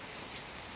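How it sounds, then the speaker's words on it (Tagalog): Overnight rain falling heavily on a flooding street, a dense, steady hiss of drops spattering on surfaces, close and continuous throughout with no voices. "baha na naman nang dahil sa magdamag na ulan"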